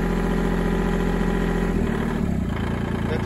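Kubota L2501 diesel tractor engine idling steadily up close, a continuous low rumble and vibration that drops slightly in pitch partway through as the throttle is eased back.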